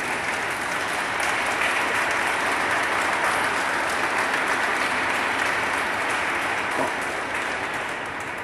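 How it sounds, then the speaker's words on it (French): Full, sustained applause from a congregation at a Sunday Mass, a steady wash of many hands clapping at even volume throughout, with no voices rising above it. "on peut peut-être les applaudir quand même"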